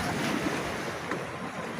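Steady roar of storm waves breaking and washing ashore, close and loud, with wind rushing over the microphone.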